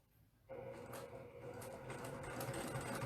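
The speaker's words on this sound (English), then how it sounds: "And I'm just going to sew." A sewing machine doing free motion quilting starts up abruptly and keeps stitching as a steady, close mechanical whir with a faint rhythmic buzz, with no talking.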